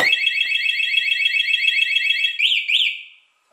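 A cheap $20 scooter alarm siren on a TaoTao 50cc scooter warbles shrilly and continuously at close range, rapidly pulsing, then switches to two rising whoops before cutting off.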